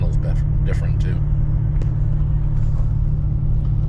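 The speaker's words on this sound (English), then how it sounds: "when I put it in track mode, I do get a little bit deeper sound" Deep, steady engine rumble from a Jeep running with its exhaust in track mode, loud and close throughout, with faint voice-like sounds above it in the first couple of seconds.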